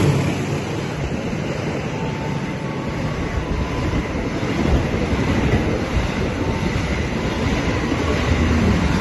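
A train rolls through Klender station in Jakarta with a steady, loud, close rumble and rattling wheels that hold for about nine seconds, with no talk.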